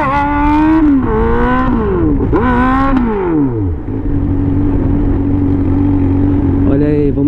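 A Honda Hornet motorcycle engine revs hard up close, several sharp throttle blips rising and falling, then settles into a loud steady idle before a final rev.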